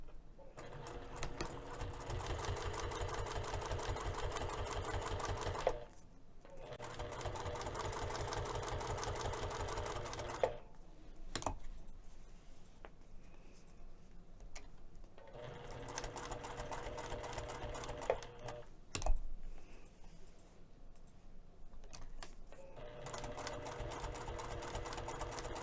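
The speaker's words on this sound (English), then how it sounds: "I'm going to be sewing a metal rectangle on both of these pieces to hold the lower edge down as well" A sewing machine stitches a metal rectangle onto a messenger bag strap piece, whirring steadily in long runs broken by short stops and a few clicks.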